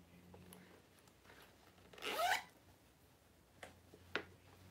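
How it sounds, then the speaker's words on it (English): A zipper being drawn open on a designer bag, a single short rasping pull up close in an otherwise quiet room, followed by a few faint handling clicks. "The back is also a zipper."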